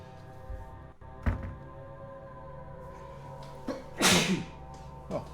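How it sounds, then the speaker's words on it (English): A single loud sneeze bursts out close by in a quiet room partway through, with a few softer thumps and clicks scattered before and after. "Oh, excuse me. Sneeze."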